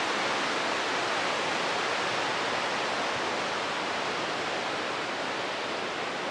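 Vista Creek rushes through a forest along the Pacific Crest Trail, a dense, steady roar of flowing water heard close and unbroken, with no voices over it.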